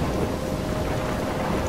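Thunderstorm in the video game Life is Strange, steady loud rain hiss with rumbling thunder filling the background continuously, no voices.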